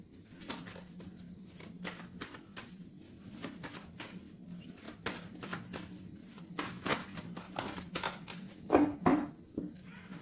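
A tarot deck is cut and handled by hand, giving crisp, papery flicks and soft taps close by in an irregular rhythm, with a slightly louder riffle near the end.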